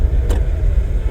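During a driving lesson, a car engine hums low and steady while the driver shifts into second gear. A short whoosh near the start could be the gear change.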